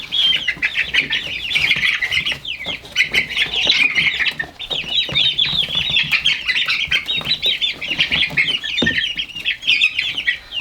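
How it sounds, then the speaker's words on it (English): A flock of chickens clucks, squawks and chirps continuously and close by, with bursts of busy high-pitched calls and occasional wing flapping, with no talking. "you guys don't like the sounds of them chirping and everything"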